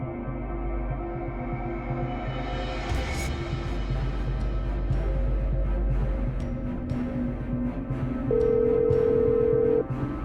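A telephone rings during a Hindi family drama, giving a short, steady electronic tone near the end over a low background hum and scattered noises.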